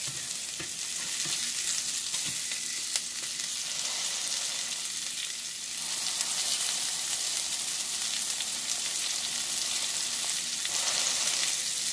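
Beyond Burger patties fry in a pan with a steady, loud sizzle and crackle throughout, with the occasional soft scrape or clink of stirring and flipping.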